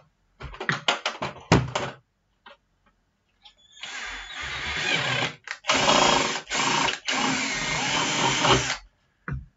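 A power drill bores out the plastic part of a Bruder MAN TGS toy truck to 7 mm, starting with a series of short bursts and then running in several longer, loud whirring runs with brief pauses between them.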